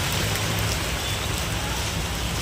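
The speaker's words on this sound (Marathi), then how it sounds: "आता बघा मस्तपैकी पाऊस पडायला एकदम थंड, जस्ट आता पाऊस सुरू झाला आहे" Steady rain pours down outdoors in the first shower after a hot, sunny spell. It makes a dense, even hiss of drops on surfaces that stays loud and unbroken for the whole stretch, with no voices.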